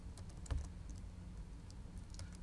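Keys clatter softly on a computer keyboard as a command is typed, a quiet run of close, irregular taps with one slightly louder keystroke, no talking.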